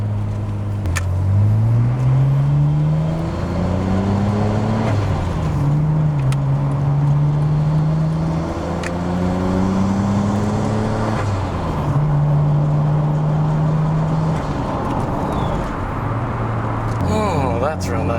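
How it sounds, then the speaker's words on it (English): Nissan Skyline GTR R33 with its RB26 engine, heard from inside the cabin as a steady low rumble that rises and falls through gear changes, with air conditioning running. "If you're hearing that nice rumble here of that RB26, that's because we are indeed in an R33 GTR"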